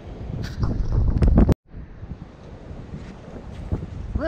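Strong beach wind buffets the microphone in loud, roaring gusts, cutting out briefly for a moment before the blustery rush resumes.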